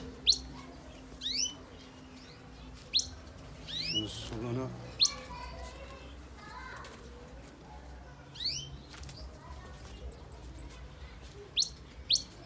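Canary and goldfinch hybrid birds in a home setting give repeated short, bright chirps and tweets in bursts across the clip, fairly close, with a person talking at one point and some soft wing flutters.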